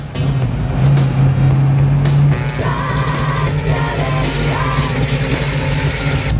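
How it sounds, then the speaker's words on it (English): A 1970 Ford Mustang Boss 302 engine heard from inside while driving, a loud steady low rumble that holds its pitch and rises slightly toward the end, with faint clatter on top. "that's what it's like driving a Boss 302"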